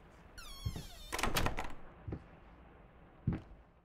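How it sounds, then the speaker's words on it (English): A door shutting in the horror game Layers of Fear, a drawn-out creak and rattle building to a solid thunk, followed by fainter knocks in a quiet, dark room. "Do I be in here and shut the door, maybe?"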